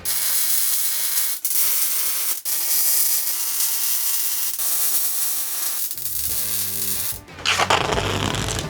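Tack welding on steel camper parts, a steady bright crackling hiss running almost continuously with a few brief breaks, ending in a rougher burst of louder spitting near the end.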